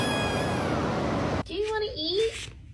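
Hungry pet cat meowing at feeding time, a long drawn-out cry followed by a shorter rising meow, close and clear.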